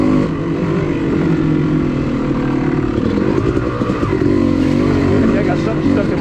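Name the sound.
dirt bike engine riding on trail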